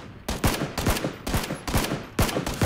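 Gunfire in PUBG Battlegrounds arrives as loud, close bursts of rapid automatic shots, several short volleys separated by brief gaps, with no talking.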